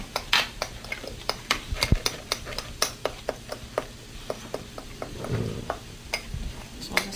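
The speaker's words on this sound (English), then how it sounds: "we're going to add it to the onions once they're browned a little bit more than they are right now" Onions browning in a frying pan with a low sizzle beneath a steady series of sharp clicks and taps from stirring, utensils knocking on the pan repeatedly at close range.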